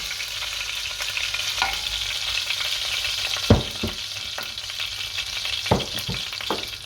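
Beef short ribs sizzle steadily as they are returned to a hot pot of oil, a continuous close frying hiss broken by a few sharp knocks of meat and utensil against the pot, with no voices.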